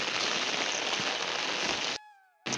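Heavy rain pours down in a steady, dense roar, then cuts out abruptly for about half a second before surging back in.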